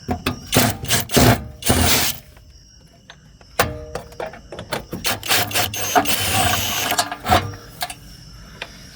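A power driver runs new screws into an outdoor electrical box for a pool timer and GFCI outlet, with several short whirring bursts separated by pauses, then a longer grinding run near the end.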